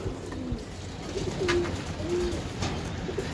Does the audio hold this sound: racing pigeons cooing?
yes